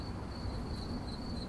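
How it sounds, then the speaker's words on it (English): Crickets chirp in a steady, continuous trill under a soft outdoor hiss, fairly close and even in loudness throughout. "That's right, crickets."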